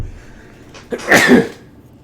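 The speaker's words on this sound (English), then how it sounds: "Excuse me, I sneezed there." A single person's sneeze, a short sharp intake followed by a loud burst near the microphone, standing alone against a quiet background.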